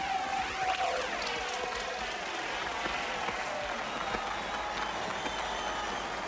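Audience applause at a dance contest in a film scene, a continuous hiss of many hands clapping at moderate level, with faint tonal background sound running underneath throughout.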